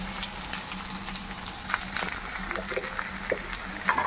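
Green chilies fry with salt and turmeric in a pan, making a soft, continuous sizzle with scattered crackles and light stirring clinks, under a faint low hum.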